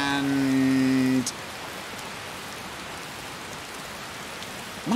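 Rain pours in the video game Skyrim, a constant wash of drops that is briefly overlaid by a tonal game sound at the start before going on alone, steady and moderately loud.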